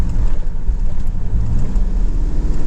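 A third-generation car fitted with an LS V8 engine downshifts while driving, giving a steady low engine drone and road rumble with slight swells in revs and no talk.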